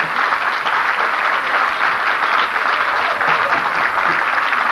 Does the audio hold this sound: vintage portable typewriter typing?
no